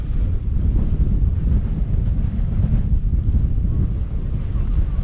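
Strong sand-laden desert wind on the Mauritanian coast blasts across the microphone in a steady, low roaring rumble with gusty buffeting throughout, no voices heard.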